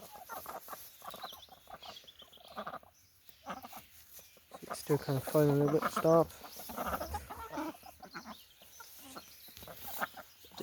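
Chickens clucking and squawking on a free-range chicken and duck farm, a burst of loud agitated calls in the middle while a person talks nearby before and after.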